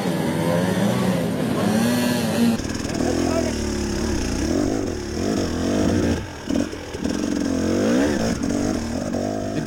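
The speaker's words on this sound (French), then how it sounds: "L'avant de la moto saute" An enduro motorcycle labours up a steep rocky slope in a hard enduro extreme challenge, its engine revving and bogging in uneven bursts with pitch swinging up and down, fairly close throughout.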